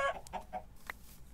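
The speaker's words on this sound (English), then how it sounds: "Chickens click." A few quick chicken clucks in Minecraft sound close together at first, followed by one more short cluck, fairly quiet against a low background hum.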